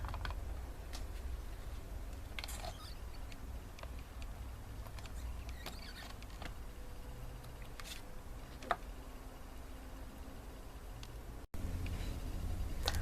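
Cards being inked and stamped in a MISTI stamping tool, with soft clicks, taps and the hinged door thudding shut at intervals over a faint background hum, quiet and close, no talking.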